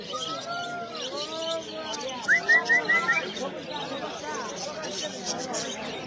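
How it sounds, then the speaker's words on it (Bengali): A bird chirps in a short burst of four or five quick tweets over steady crowd chatter and background noise at a bustling bird-selling market in Narsingdi. "এই যে আপনারা দেখতে পাচ্ছেন এই পাখিটি আমার কাজে এসে বসে আছে"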